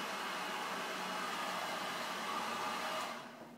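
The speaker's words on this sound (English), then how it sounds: "The goal is to flash heat the shrink tubing, but not melt your wires." A heat gun blows steadily and loudly, flash-heating shrink tubing over wires in a model aircraft build, a continuous airy hiss that fades out near the end.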